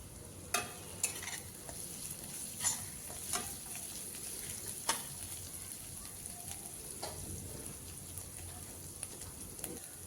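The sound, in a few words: onion paste frying in a pan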